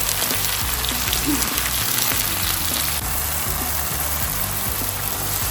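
Onions and tomato frying for mutton biryani make a continuous dense sizzle, with a low steady hum running underneath throughout.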